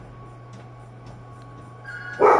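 A dog in the video game Life is Strange: True Colors breaks into a sudden loud bark near the end, after a quiet stretch of low background hum.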